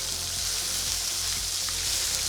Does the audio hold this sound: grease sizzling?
yes